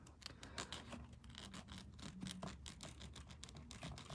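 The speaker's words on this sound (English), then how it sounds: "since it's a small area, I just use a little hand file" A small hand file rasps rapidly against a tiny metal earring part in quick, repetitive scratchy strokes, quiet and close with no talking.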